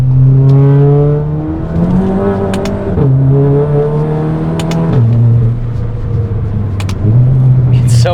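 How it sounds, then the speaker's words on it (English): A Volkswagen Mk7 GTI with a DSG gearbox and an aggressive aftermarket exhaust revs hard through repeated upshifts, its loud, close engine note climbing then dropping at each shift, with short crackles between gears. "It's a shame that this exhaust is way too aggressive for daily use"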